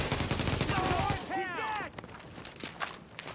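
Rapid gunfire from the shooter The Division, a quick dense burst of shots followed by scattered quieter pops, with a person talking over the first half.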